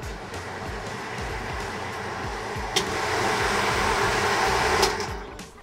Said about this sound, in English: Now this has 1000 CFM with a fan that's adjustable.